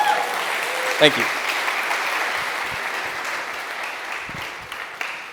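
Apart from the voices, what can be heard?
conference audience applause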